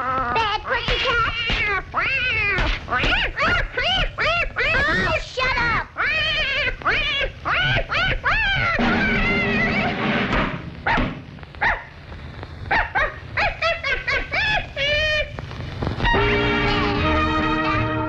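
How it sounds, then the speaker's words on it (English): A cartoon cat in the 1935 Betty Boop short "Taking the Blame" yowls and caterwauls loudly in long sliding wails, alongside dog-like barks and a music track. "Bad pussy cat."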